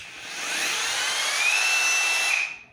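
An INGCO CRHLI202081 22 mm cordless rotary hammer with a 4Ah battery runs in drill mode, a close, loud, smooth high whine with a steady tone that holds for about two seconds and then stops.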